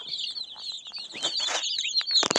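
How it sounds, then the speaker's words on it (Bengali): Duck chicks, Chinese duck chicks and desi chicken chicks kept together chirp in a dense, continuous chorus of high, close peeps, with a few soft rustles and scuffles underneath. "দেখেন আমরা কিভাবে একসাথে হাঁসের বাচ্চা, চীনার হাঁসের বাচ্চা, দেশি মুরগের বাচ্চা"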